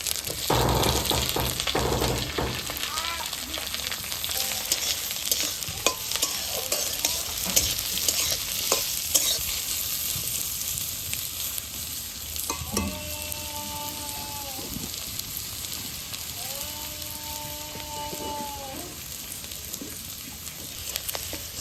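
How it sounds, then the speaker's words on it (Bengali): Chopped onions and green chillies frying in hot mustard oil in a village kitchen. A steady sizzle with stirring scrapes is loudest at the start and then settles to a softer, continuous crackle. Faint tonal sounds come and go in the background. "পেঁয়াজ ভাজা হয়ে গেছে, লাল লাল সুন্দর ভাজা হয়েছে"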